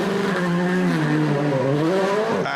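DTM touring race cars at Brands Hatch in 2012, a loud sustained engine roar with pitch sliding as gears shift, close and continuous throughout.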